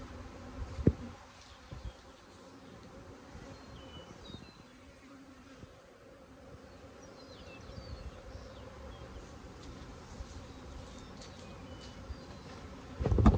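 A low, constant buzz of many agitated honeybees swarming nearby as brood frames are moved, with occasional bumps and knocks breaking through.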